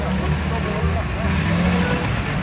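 A Dodge Ram pickup stuck on a muddy farm track, its engine revving hard in a loud, steady roar, with people shouting over it.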